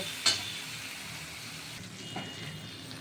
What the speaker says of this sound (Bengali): এবার এইটা দিয়ে আমি চালটা আর এই মাছের মাথাটা ভাজা ভাজা করব